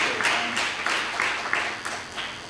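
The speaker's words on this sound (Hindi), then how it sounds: "जोरदार तालियां खुदा की" Applause from a church congregation at a faith gathering, a steady wash of clapping with a few sharper bursts standing out, moderately loud with no talk over it.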